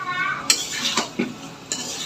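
A spoon stirs broiler chicken kala bhuna curry in a pan, with several distinct scraping strokes against the metal over a faint sizzle.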